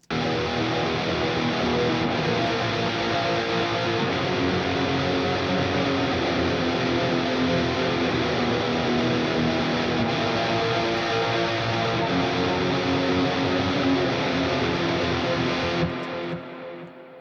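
Sustained distorted electric guitar chords in an atmospheric black metal tone, washed in delay and reverb, ringing continuously at a loud level before cutting off and fading near the end.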